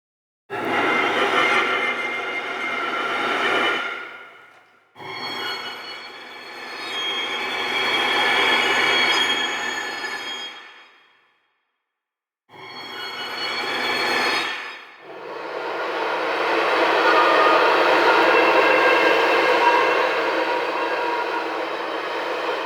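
Hyperion Strings ensemble silent sustain effect patch, airy breathy swells of bowed string noise in four long washes separated by brief silences, close and fairly quiet with no voices.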